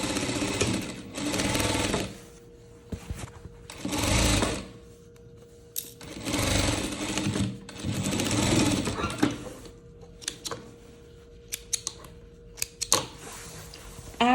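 A sewing machine stitches a leopard-print dress in fast whirring bursts that start and stop, loud and close, with a steady hum under the runs and light clicks between them.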